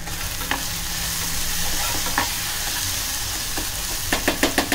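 Tomato masala for a clam curry bubbles and sizzles in a pan on a medium-high gas flame. The frying noise holds steady, broken by a few spoon scrapes, then a quick rhythmic run of stirring knocks at the close.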